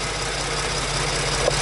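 A Ford Transit engine idles steadily and close by after an oil change, with a constant low hum and no voices.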